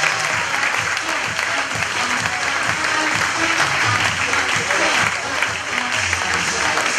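A dense, sustained round of applause from the audience at the Rotonde fills the whole stretch, steady and close, with a few voices murmuring underneath.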